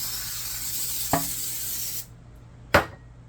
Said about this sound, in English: spray your baking dish